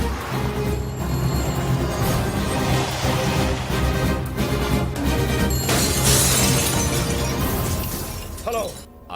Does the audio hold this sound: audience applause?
no